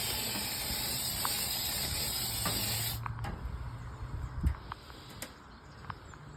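Bug spray hisses steadily for about three seconds onto ants in a boat's transom during a Sea King transom replacement, then cuts off, leaving faint clicks and handling noises.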